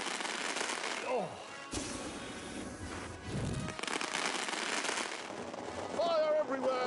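Fireworks crackle and pop in The Grand Tour Game on PS4, a dense, sustained barrage of bangs and fizzing bursts mixed with game effects, while voices talk over it.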